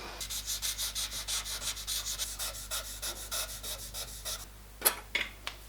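Hand filing trims down a small metal part of a shop-made die filer's gear change mechanism, a steady run of about twenty rhythmic rasping strokes up close, then a few sharper knocks and scrapes at the end.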